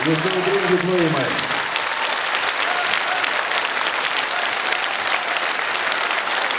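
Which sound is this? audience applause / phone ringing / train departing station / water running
audience applause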